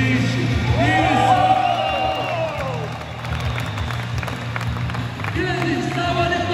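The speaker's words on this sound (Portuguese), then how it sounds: "Grande salva de palmas" A stadium crowd at a professional championship final in Taubaté, SP, breaks into sustained applause and cheering, with whistles and whoops rising over the clapping, easing briefly midway and swelling again at the end.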